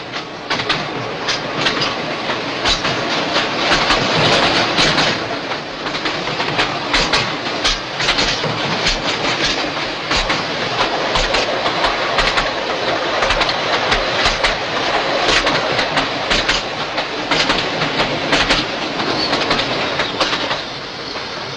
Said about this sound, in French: le train dévale vers la plaine de Galicie